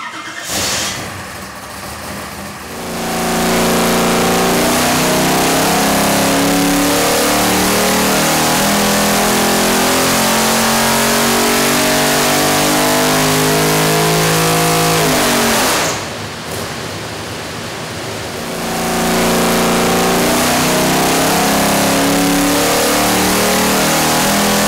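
LS3 V8 with its stock intake manifold and throttle body revving on a dyno, climbing in a long loud sweep to full throttle, dropping back, then pulling hard again in a second roaring run.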